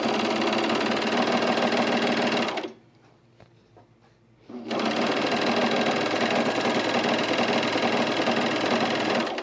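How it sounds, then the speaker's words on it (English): Overlocker serging the long fabric edges of chino pants, a fast loud mechanical whirr that runs steadily, stops for about two seconds, then starts again and continues to the end. "I'm just gonna overlock these long edges here"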